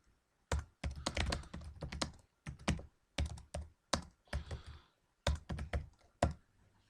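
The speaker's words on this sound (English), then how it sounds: "You basically can put your cursor where you want it and start typing." Keys clatter on a computer keyboard in several quick bursts of typing, close and crisp with short pauses between runs, no voices.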